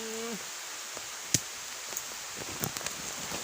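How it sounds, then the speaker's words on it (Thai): Soft, steady patter of rain in a bamboo forest with scattered drops ticking on nearby surfaces, fairly quiet and continuous. "ฝนตกข้างนอกครับพี่น้อง"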